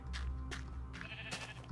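Sheep bleating in Minecraft Beta 1.6.6, three short wavering baa calls spaced about half a second to a second apart, fairly close and clear over a soft low background hum.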